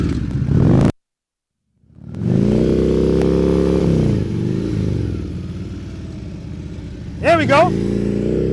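Motorcycle engine during slow-speed riding practice, a steady close low rumble that drops out briefly near the start and then returns, with a short rev-like rise near the end and voices over it.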